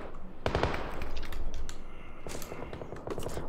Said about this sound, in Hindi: उसके सामने मैं 10 गोलियां मार रहा हूँ